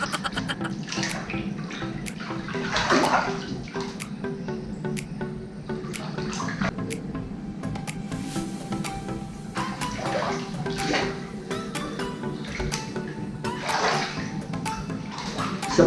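Bathwater sloshes and splashes in a tub tinted with Lush bath bombs, soft swirling washes recurring every few seconds at close range.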